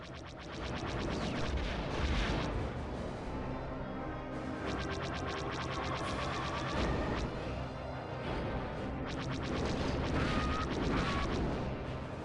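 Heavy weapon fire in Star Wars Rogue Squadron 3D, dense rapid bursts of blasts and crashes rolling continuously and loudly, no talk over them.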